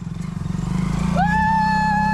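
A new motorcycle engine idling close by, a throbbing low putter that swells and steadies into a loud, even drone with a rising whine partway through.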